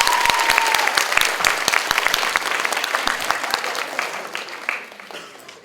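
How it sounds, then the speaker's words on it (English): An audience at a university debating tournament final breaks into dense, sustained applause that stays loud throughout and tapers slightly at the end, with no voices over it. "Everybody please give a round of applause."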